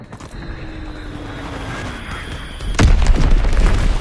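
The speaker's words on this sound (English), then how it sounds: "Enemy bomb incoming! Get to cover!" An enemy bomb goes off in a combat video game: a low droning lead-in gives way to a sudden loud boom, followed by a sustained rumbling roar of debris and noise.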